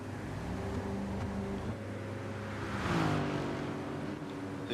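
A race car leaves the pits in a BTCC touring-car racing video game at High Speed Ring, its engine holding a steady droning whine that swells and shifts pitch midway, continuous and fairly close.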